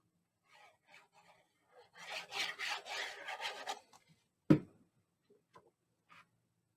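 Gold shimmer rubbed and burnished onto a handmade Christmas book box, heard as a close run of soft rasping strokes, then a single sharp knock and a few faint taps.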